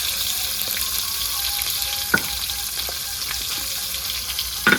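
Pabda fish sizzles in oil that is not fully hot, a steady crackling fry with a few sharp pops and the occasional stir, heard close up with no talk.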